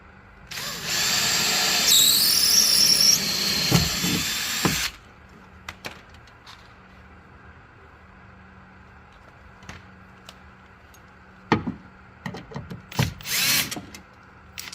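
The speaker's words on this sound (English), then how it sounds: "I'm gonna basically drill through it" Power drill boring through a plastic speaker mounting ring on a 2012 Nissan Juke during a speaker upgrade: a loud, close, steady whirring burst for about four seconds, then quiet with a few scattered clicks and knocks.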